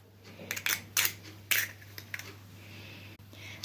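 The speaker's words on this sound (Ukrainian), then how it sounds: "Беремо товкачик і все це гарно розтовчуємо." Cottage cheese is pounded in a bowl with a pestle, making a few close, irregular soft thuds and squelching crunches over a steady low hum, with quiet pauses between the strokes.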